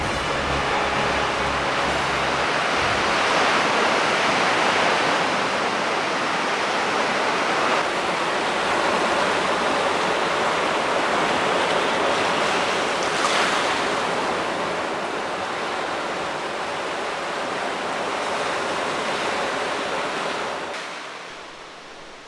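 Ocean waves roar and wash steadily for a long stretch, a broad surf rush with no voices, fading out at the end.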